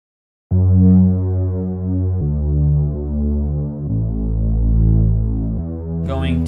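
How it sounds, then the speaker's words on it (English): A music sample run through a distortion unit, a thick, steady harmonic drone changing pitch in a few held sections, loud and close, with no voices. "I'm going to add a little bit of color with a distortion unit"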